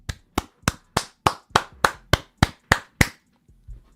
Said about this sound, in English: I had to stand up and give you a round of applause